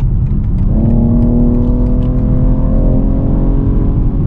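A 2022 BMW X3M Competition accelerating hard, its engine note climbing steadily and loudly with a smooth rising whine, heard from inside the cabin without talk.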